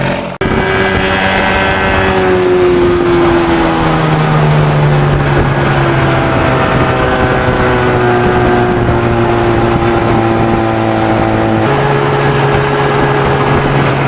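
Evinrude 25 hp outboard motor running at full throttle, a loud steady drone with rising harmonic pitch that holds for most of the clip, then shifts lower near the end, with wind buffeting the microphone.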